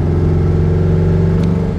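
A 1963 Porsche 356 B T6 Cabriolet, tuned to about 160 hp, holds a loud, steady engine drone close by, its low throbbing tone even throughout with no voices.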